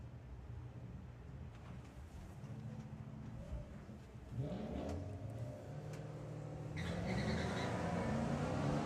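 Camaro and Mustang drag racing at Santa Pod Raceway, engines rumbling steadily before a sharp rise in revving around midway, then a louder second surge as both cars accelerate, close and loud without talk.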